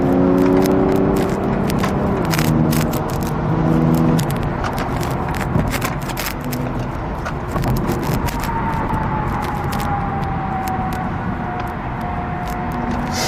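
A rear-wheel-drive BMW M340i switched into sport mode, heard from inside the cabin: a steady engine drone and road rumble with shifting engine tones and scattered small clicks, and no talking.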